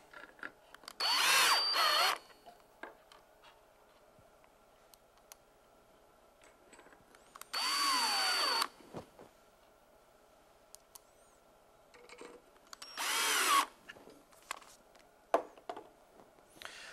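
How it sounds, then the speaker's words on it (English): A power drill drives screws into the brackets of a Peachtree dovetail jig in three separate bursts of about a second each, with quiet handling clicks and taps between them. "Take the screws that come with the micro adjusters and fasten them down."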